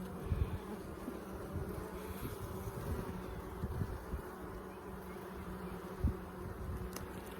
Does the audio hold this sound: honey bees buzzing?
yes